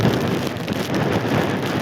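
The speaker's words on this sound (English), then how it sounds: "I'm actually being blown by the wind along the street" Strong wind gusts roar along a city street during a February 2013 blizzard, a loud, steady, dense rush with no break and no voices.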